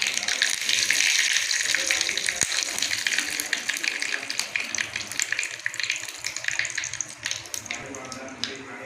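Mustard seeds and curry leaves sizzle and crackle in hot oil for khaman dhokla tempering, a loud continuous frying hiss dotted with sharp pops throughout.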